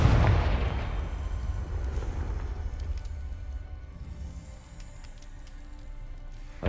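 A Confringo fire spell explodes in Hogwarts Legacy with a loud booming blast at the start that rolls off into a long, fading rumble, followed by quiet ambience.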